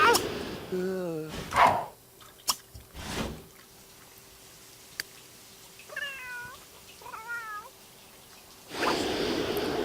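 A pet cat meows repeatedly in The Sims 3 life-simulation game, several short wavering mews spread over a quiet stretch between louder bursts of in-game sound.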